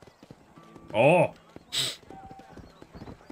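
A horse whinnies loudly once in the Red Dead Redemption video game, followed by a short snort, with faint clip-clop and a brief spoken exclamation.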